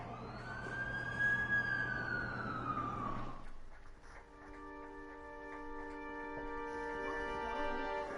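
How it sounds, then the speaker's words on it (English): An ambulance siren wails in a long rising and falling sweep, then gives way to steady tonal hooting, fairly loud and close with no talk over it. "That's the ambulance I called."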